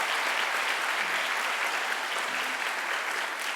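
Steady congregation applause fills a church chapel service, a dense, even wash of clapping at moderate distance with no talk over it.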